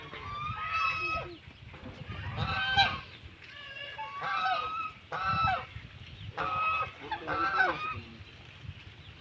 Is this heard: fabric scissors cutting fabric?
no